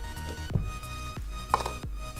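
Butter being cut into flour with a fork in a bowl: a few separate soft scraping and tapping strokes, spaced roughly half a second apart, close and fairly quiet, with no talking.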